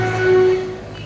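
A heritage railway train at a park in Tinsukia, heard close by as a loud, sustained tonal horn-like hum that swells and then fades under low rumbling.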